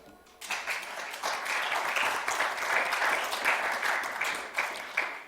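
Applause fills a Polish Senate chamber, a steady bout of many hands clapping that swells after a sudden start and holds for several seconds at moderate distance, with no talk over it.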